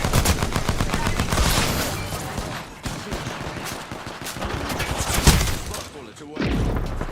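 Gunfire in the Apex Legends video game, dense loud bursts of rapid shots and impacts running almost continuously, with speech mixed in.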